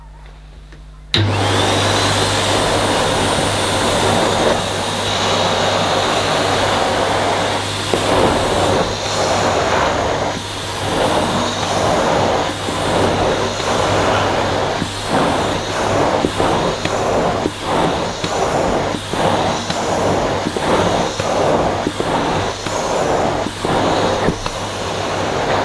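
A Numatic Henry HVA 160-11 vacuum cleaner runs with its standard carpet and floor nozzle, picking up pet hair. A loud, constant motor whine is heard up close, with rhythmic surges and scraping as the nozzle is pushed back and forth.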